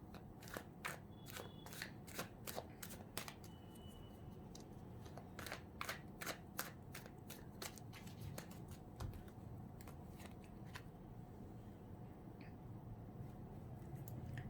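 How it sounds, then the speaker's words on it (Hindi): Tarot cards being shuffled by hand, a steady run of crisp riffling snaps and shuffling clicks, close and fairly quiet, with no one talking. "जब तक मैं कार्ड्स शफल कर रही हूँ"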